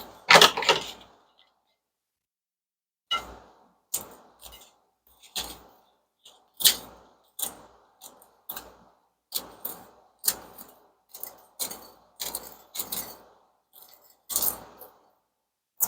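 Scissors snipping through dried chiles into small pieces, a steady run of short, crisp clicks and crunches repeating at an uneven rhythm after a brief pause, close up with no talking.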